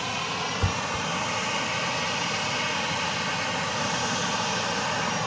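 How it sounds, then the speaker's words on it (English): A Southwest Boeing 737-700 arriving from Denver at Dallas Love Field after dark, heard as a steady, even roar that holds throughout, with one brief low thump near the start. "We do, however, have a Southwest flight coming in from Denver, flight 3176, a 737-700."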